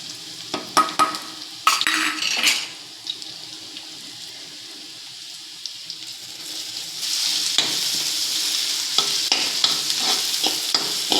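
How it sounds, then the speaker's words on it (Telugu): Crushed cumin, black pepper and garlic fry in a pan for Rayalaseema rasam, with a few close spoon-stirring scrapes early on, then a steady, brighter hiss that builds and holds to the end, no voices present. "మనం దంచుకున్నాం కదండి, జీరా, మిరియాలు, వెల్లుల్లి ఫ్రై చేసుకుందాం."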